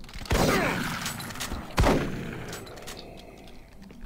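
Two loud shotgun blasts ring out in the Doom 3 video game, about a second and a half apart, each with a sharp crack and a rolling decay, then quieter ambient game noise.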